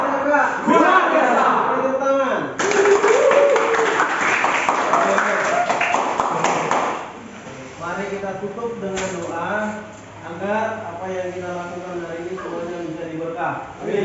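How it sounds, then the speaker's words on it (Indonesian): A vocational high school automotive class claps hands after a chant: a burst of many hands clapping lasts a few seconds, mixed with voices, followed by people talking over a quieter background. "Tepuk tangan."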